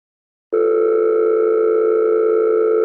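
A steady electronic phone tone starts after a brief silence and holds unbroken, loud and close, with no talking over it.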